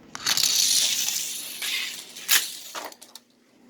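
A NASCAR race car slamming into a sign in a racing video game, a burst of crunching, shattering impact noise with glassy clinks and a second sharp crack before it fades.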